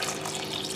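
Milk pours into cake batter in a bowl, a brief, steady liquid gush heard close up with nothing else over it.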